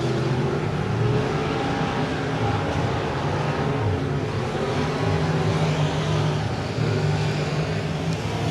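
Modified race cars circle Heart O' Texas Speedway in a $1,000-to-win feature, their engines making a loud, continuous roar with swelling pitch as the pack works the track, close and unbroken throughout.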